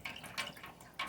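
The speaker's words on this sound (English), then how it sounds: "Put three drops in there." A few drops of pH solution fall into water, making small, soft plips close by in a quiet room.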